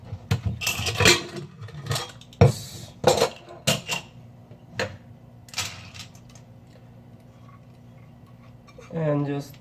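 A metal pressure cooker is handled for cooking chana dal, with close, sharp clinks and knocks of metal pots and lids in irregular bursts, then quieter gaps, ending with a brief voice.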